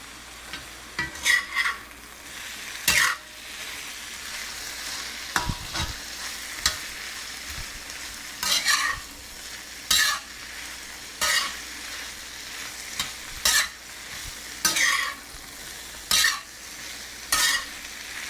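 String beans and snow peas stir-fried with garlic and ginger in a pan make a steady sizzle, broken by repeated loud scraping stirs at a regular pace, with no talking.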